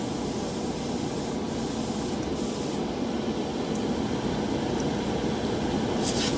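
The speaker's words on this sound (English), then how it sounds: "back flush some airbrush cleaner. Now this is just to get any manufacturing contaminants out of the airbrush." A gravity-feed trigger airbrush back-flushes cleaner, producing a steady close hiss of spraying air with a slight gurgling bubble texture throughout.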